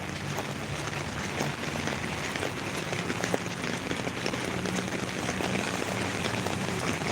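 Steady rain pours down in a dense, even hiss, constant and fairly loud throughout with no talking.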